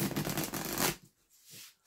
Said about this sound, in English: This reading wants us to use the entire tarot deck, so we're going to shuffle this up.